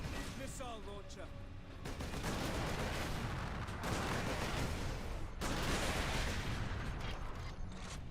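Automated gun turrets fire in the Space Marine video game, a dense, loud stream of rattling gunfire that runs almost unbroken for several seconds, with brief dips between volleys.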